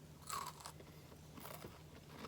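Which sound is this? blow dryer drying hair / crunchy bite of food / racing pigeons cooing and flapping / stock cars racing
crunchy bite of food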